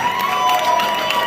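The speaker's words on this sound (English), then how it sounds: "Round of applause for him." Crowd at a Connecticut barber awards event cheering and applauding, a dense continuous roar of claps and shouts, loud and close throughout the short burst.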